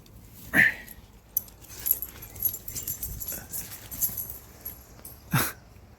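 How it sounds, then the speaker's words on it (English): A puppy whimpers and gives a couple of short, high yelps nearby during work on an old truck, with faint metallic jangling and light handling noises in between. "Look at that puppy."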